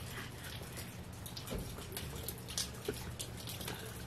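Meltwater from snow dripping off a roof, a soft steady patter of scattered drops over a low continuous background hiss, fairly quiet and with no talking.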